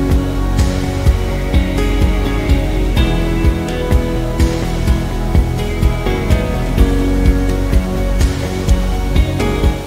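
A swollen stream beside a house near Lake Como roars after a severe storm, a dense, steady rushing wash of water with no letup, loud and close.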